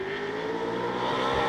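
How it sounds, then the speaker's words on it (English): A Coyote-engined Mark 1 race car powers out of a hairpin at a motorsport circuit, its engine note rising with a rough, uneven edge, loud and continuous with no talk. "It's a bit of a noise, like it isn't actually all that happy, Taunton's car coming out of the hairpin"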